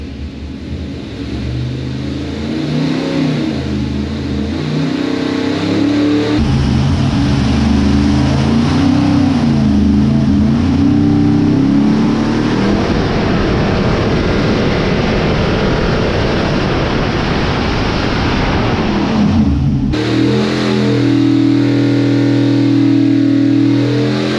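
An aluminum 535 Pontiac engine roars steadily at high revs on a dyno pull, a loud sustained rumble that climbs and shifts in pitch, cuts briefly near the end, then returns. No one speaks over it.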